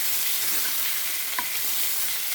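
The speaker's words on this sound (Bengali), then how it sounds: "খুব তাড়াতাড়ি রান্না করলাম, কই মাছ ভাজি করলাম একটুখানি সরিষার তেল দিয়ে।" Koi fish rubbed with lemon juice, salt and turmeric frying in mustard oil, a steady close sizzle with a faint stir or clink midway.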